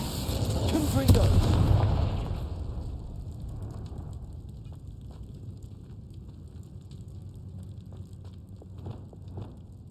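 An explosive Confringo spell blast in the Hogwarts Legacy video game: a loud, close burst with a rumbling, crackling impact for about two seconds, then fading into lighter crackles and small pops.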